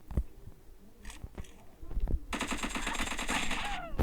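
Rapid automatic gunfire rattles steadily for the last couple of seconds of a shooting video game, preceded by scattered thumps and faint talk, ending on a sharp loud bang.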